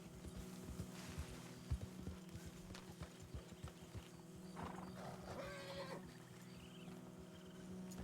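Horse hooves clop in Red Dead Redemption 2 as a mount walks along a trail, a run of fairly regular thuds over low ambient hum, faint overall, then fading to quieter background.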